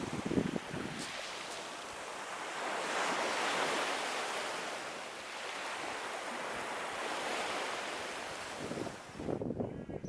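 Gentle sea waves wash steadily onto the shore at the Sarıgerme beach campsite in Ortaca, Muğla, a continuous close surf with some wind noise on the microphone and no speech.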